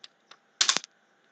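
Computer keyboard keys click faintly: two light isolated taps, then a louder quick cluster of strikes ending in a firm press of the Enter key, with no talk.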